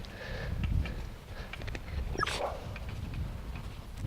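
Dog whimpering at an animal shelter, soft high whines and faint yips repeating over a steady low background rumble, heard from close by without talk.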